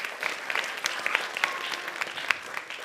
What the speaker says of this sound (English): Can we all give them a round of applause again?